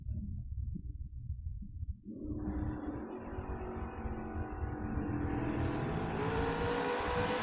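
Drag race launch between a Trans Am and a dragster: a low, heavy engine rumble at idle suddenly erupts into a loud, rising roar as the cars leave the line and accelerate hard.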